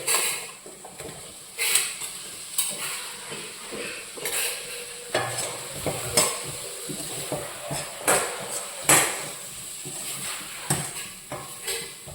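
Finely chopped soya chunks tipped into a hot pan and stirred, with repeated scraping and clattering strokes of a spoon against the pan over a soft sizzle.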